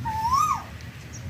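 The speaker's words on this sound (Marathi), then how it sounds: "आणि कोकिळा बघा मस्त गते." Asian koel singing outdoors just before the monsoon, giving a single clear, rising whistled note that swells and breaks off, heard at moderate distance over a low, steady background rumble.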